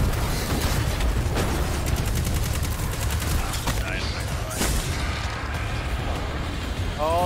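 Dense gunfire rattles in Destiny 2: The Witch Queen as a player fires on a Knight enemy, with rapid repeated shots and booming impacts layered under voices talking.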